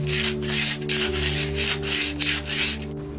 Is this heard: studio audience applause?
no